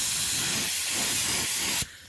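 A spray gun lays Cerakote coating onto a cast exhaust system, giving a continuous close airy hiss that stops abruptly near the end.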